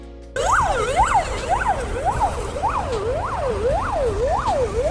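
An ambulance siren in Belarus, on a Mercedes-Benz Sprinter, wails in a steady repeating up-and-down sweep, loud and near, starting abruptly after a brief moment and continuing over low traffic rumble.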